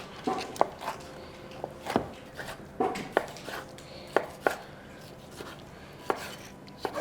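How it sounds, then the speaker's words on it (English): A knife chops a bell pepper into strips and then small squares on a cutting board, with a steady run of sharp, close taps at an uneven rhythm and no talking. "we're going to open it and then begin to cut into strips. And then into small squares."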